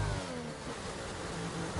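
A race car engine in a racing video game, set at the Circuit of the Americas on intermediate tyres, pulls steadily under acceleration, a continuous mid-pitched drone that holds at an even level for about two seconds.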